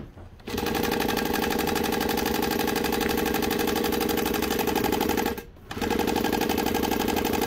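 A Juki DU-1181N industrial walking-foot sewing machine runs in loud, steady rapid stitching bursts close by, with two brief pauses between long runs.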